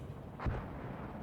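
A single 105mm artillery shot in the Warno video game, one short booming report with a quick decay over steady low battle ambience.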